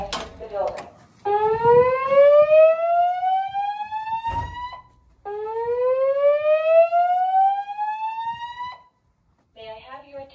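Dorm building fire alarm sounding in two long rising electronic whoops, each sweeping upward for several seconds with a short gap between, loud and close, with brief bursts of other sound at the start and end.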